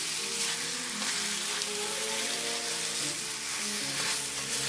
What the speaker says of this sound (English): Remember, the longer you marinate, the better the flavor. We're gonna fry that up.